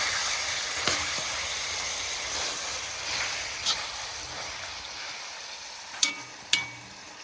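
Meat browns in a kazan over a wood fire in a stove, making a broad steady hiss that fills the background, with a few sharp clacks of a utensil near the end.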